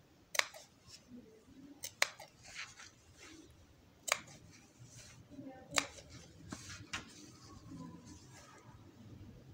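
Scissors cut through cloth for a fancy-dress butterfly, giving faint, close snips spaced a second or two apart against a quiet room with soft rustling.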